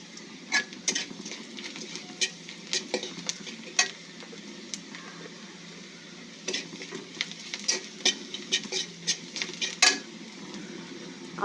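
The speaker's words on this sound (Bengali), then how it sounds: "আমার পেঁয়াজ ভাজা হয়ে গেছে" Onions and whole cumin frying in a pan, a steady soft sizzle punctuated by irregular scraping and clinking of a spatula stirring against the metal, with no voices.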